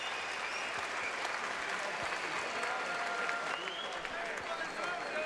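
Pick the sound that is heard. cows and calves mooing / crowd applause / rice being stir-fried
crowd applause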